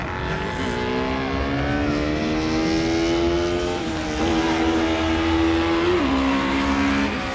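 A race car at a hill climb event accelerates through a sweeping turn, its engine note climbing steadily with brief dips at gear shifts, loud and sustained over outdoor background noise.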